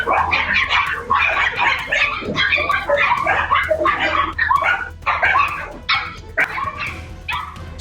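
Puppies in a pet store bark and yip repeatedly, a busy overlapping chorus of small high-pitched barks with occasional whimpers, loud and close throughout.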